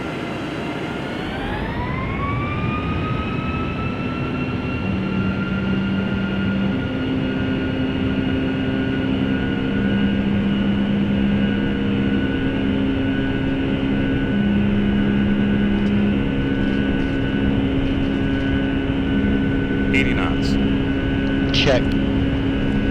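Boeing 757 jet airliner taking off from Dubai, engines spooling up into a steady, loud roar with rising whine, heard from inside the cabin as a brief voice speaks near the end.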